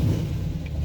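A used car engine, just fitted with a new distributor and retimed, runs steadily with a low, continuous rumble close by. The throttle is held at raised RPM and no one speaks.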